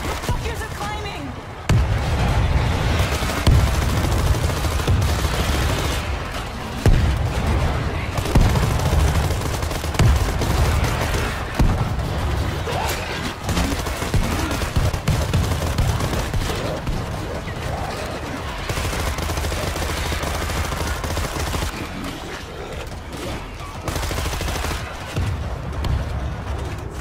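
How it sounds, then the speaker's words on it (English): Grenade blasts and bursts of rifle and machine-gun fire in the World War Z zombie shooter, loud, dense and close, with heavy impacts and rattling volleys running throughout, mixed under shouted player talk. "Throwing a grenade."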